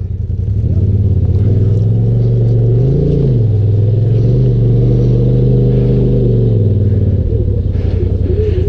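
Off-road vehicle crawling up a rough trail at Tackett Creek, its engine rumbling loud and steady with a couple of brief revs as it climbs.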